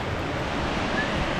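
Water rushes steadily down a concrete spillway below a mechanical floodgate on a hiking trail, a dense continuous roar with no breaks.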